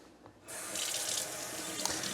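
Kitchen sink tap switched on and running steadily as food is washed under it, a close, full hiss of water after a brief quiet start, with no voices.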